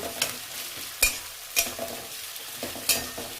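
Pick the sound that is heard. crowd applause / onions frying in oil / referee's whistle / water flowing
onions frying in oil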